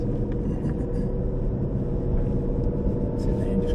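An Aston Martin Vantage engine drones with a steady low rumble while racing around Silverstone, heard from inside the car, with a voice speaking over it.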